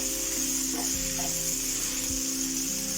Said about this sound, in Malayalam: തക്കാളി നന്നായിട്ട് ഒന്ന് മേശാവട്ടെ.